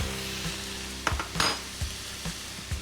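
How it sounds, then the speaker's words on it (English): Mushrooms and red onion frying in butter and oil in a pan, a steady sizzle broken by several distinct scrapes and clatters as the mix is stirred. "In goes the mushrooms, the red onion, really good stir. In goes some butter"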